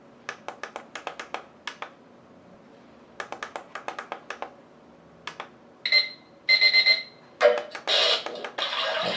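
A digital alarm clock that doubles as a white noise machine gives a quick series of short button-press beeps, then longer bright electronic tones in bursts toward the end, close and clear with no talking.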